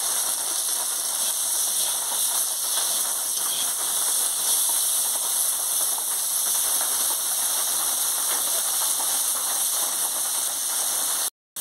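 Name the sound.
bitter gourd frying in oil with salt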